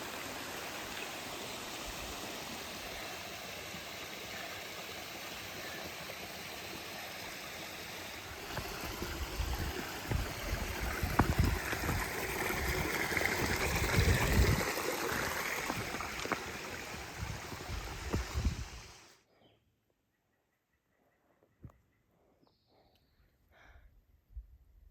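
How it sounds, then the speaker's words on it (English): A mountain stream cascading down beside a hiking trail on the Appalachian Trail, a steady broadband rush of water that swells louder midway, then cuts off abruptly into near silence with a few faint clicks. "This stream is so pretty. It's been cascading all the way down along the trail."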